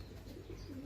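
A pigeon at a breeder's loft gives a brief, soft, low coo that rises near the end, faint against a steady low hum.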